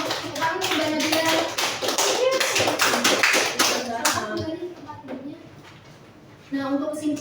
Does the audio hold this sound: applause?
yes